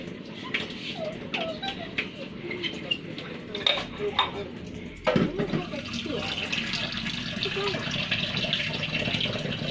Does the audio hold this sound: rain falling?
no